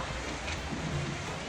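Steady heavy rain pours down in a dense, continuous hiss, close and loud, with no voices.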